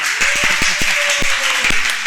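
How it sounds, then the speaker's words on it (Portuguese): Audience applause at a live podcast event about eclipses, a dense steady patter of clapping with some voices and talk mixed in over about two seconds. "As palmas de vocês"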